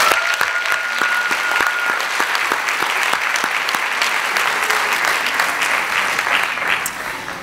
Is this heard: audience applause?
yes